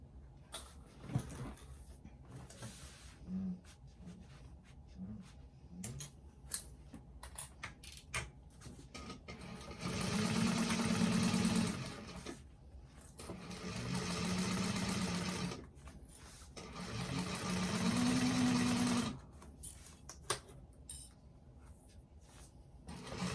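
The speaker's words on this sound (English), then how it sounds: "you're going to sew along that seam with a 3/8 of an inch seam allowance" A sewing machine stitches a bag seam with a 3/8 inch allowance in three sustained bursts of rapid whirring, separated by quieter stretches of handling clicks and fabric shuffling.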